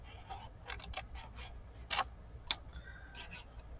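Paper being trimmed along a drawn line, with a run of soft snipping and rubbing cuts plus a couple of sharper clicks, close and fairly quiet, no talk.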